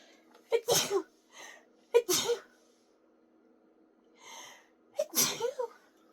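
Three separate sneezes, each with a quick inhale before the burst, spaced a few seconds apart in a quiet room with soft breaths between.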